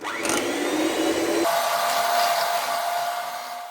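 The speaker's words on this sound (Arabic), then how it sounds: "كاس ديال السكر، ونضربوه مزيان حتى يتبدل اللون ديالو ويرجع ابيض" An electric mixer whirs steadily as it beats eggs and sugar for a coffee and cocoa cake, a loud continuous motor whine that shifts pitch partway through, with no talk.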